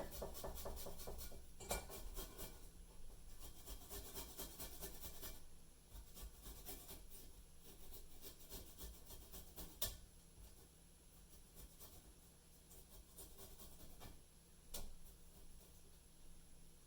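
Fresh ginger is grated on a microplane grater in short, quick strokes, giving a soft, close scraping rasp with small ticks and pauses, and no talking.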